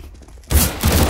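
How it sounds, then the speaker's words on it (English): Gunfire in Counter-Strike: Global Offensive, a sudden loud burst of rapid shots that cuts in after a brief quiet moment and keeps going to the end. "I was clearly shooting at the man pretty good."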